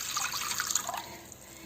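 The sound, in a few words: water poured into a pan on the stove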